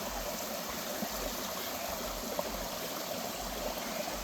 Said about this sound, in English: even the sounds that you hear from the water around me